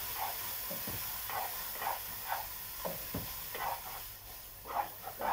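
Fish sizzles in hot ghee as it is flipped, giving a steady close hiss broken by soft rhythmic scraping and spatter bursts roughly every half second.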